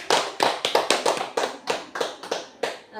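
Scattered clapping for a school principal, a dozen or so close, distinct hand claps in an uneven rhythm rather than a full-room ovation.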